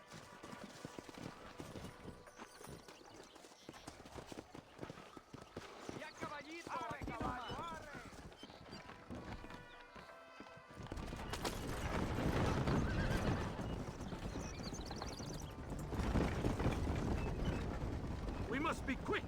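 Horses in Red Dead Redemption whinny and neigh repeatedly while hooves clip-clop at a gallop, the hoofbeats growing louder and denser in the second half, with voices speaking over parts of it.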